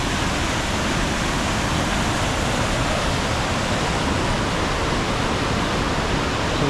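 Steady roar of a waterfall in Snowdonia, Wales, swollen after a storm, a dense, even rush of falling water heard close and continuous without any voices.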